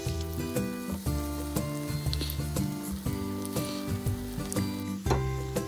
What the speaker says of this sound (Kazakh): Міне барлығын осылай қуырып аламыз.